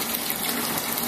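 Water from a faucet pours steadily into FloodSax flood bags, a constant hissing gush heard close up with no talk.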